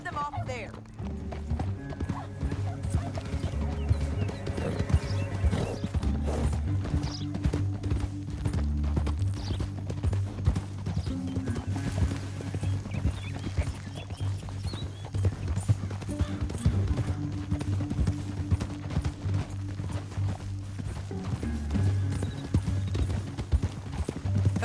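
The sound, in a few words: horses trotting, from video game Red Dead Redemption 2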